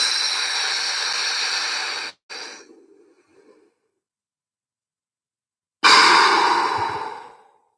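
Hyperventilation breathing during a static apnea workout: a long strong inhale, a brief catch, then a softer trailing passive exhale, a pause of silence, and another forceful breath close to the microphone.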